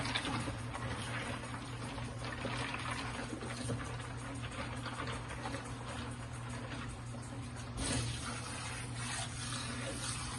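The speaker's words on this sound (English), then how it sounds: "Quick stir of my hand, maybe a little bit more hot water." Steady rushing of hot water pouring into a bucket, continuous and close, with a brief surge partway through.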